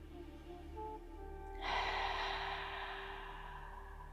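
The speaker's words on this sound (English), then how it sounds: "Just inhale and exhale to your maximum." A single deep breath during a shoulder-focused yoga session: a quiet, slow inhale builds, then a longer, airy, breathy exhale follows close to the microphone, with no talking.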